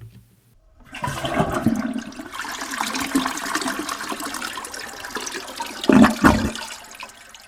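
Toilet flush used as a sound effect, a loud rushing gush of water that starts abruptly, churns steadily, then ends with a couple of gurgling surges.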